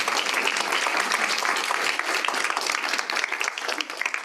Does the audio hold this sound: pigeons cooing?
no